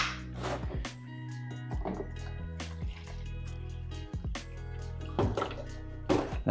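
Filtered tap water is poured into a plant container while repotting an Alocasia Silver Dragon, with faint gurgles, drips and splashes interrupted by soft handling thumps, quiet and close.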